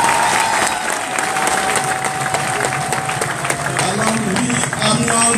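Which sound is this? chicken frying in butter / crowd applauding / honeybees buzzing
crowd applauding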